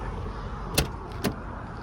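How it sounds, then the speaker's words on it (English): Door of a 1990 Lincoln Town Car shutting: two solid, short thuds land about half a second apart over a steady low background rumble, close by, with no talking. "These doors, they shut solid."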